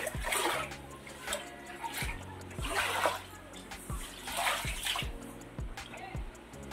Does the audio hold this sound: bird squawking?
no